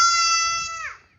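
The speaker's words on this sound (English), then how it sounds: "We even got baby goats calling me over here" A baby goat on a hillside farm gives one loud, close bleat with a strong, steady pitch that wavers and drops off at the end, lasting about a second.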